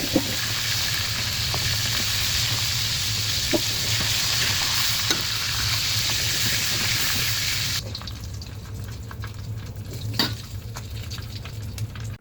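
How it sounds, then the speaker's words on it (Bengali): Chopped onions frying in hot oil that was just used for fish, a steady close sizzle with a few stirring scrapes, the hiss dropping off sharply toward the end. "সেই তেলে আমি পেঁয়াজ কুচি দিয়ে দিলাম, পরিমাণ মতো লবণ দিয়ে দিলাম।"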